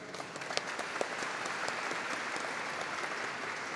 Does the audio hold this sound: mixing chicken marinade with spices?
no